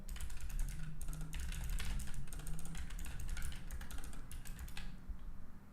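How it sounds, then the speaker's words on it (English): Fast, busy typing on a computer keyboard, rapid clattering keystrokes in quick bursts with brief pauses, close and fairly clear over a low room hum. "I should put the mic away so you guys don't hear me typing like a maniac."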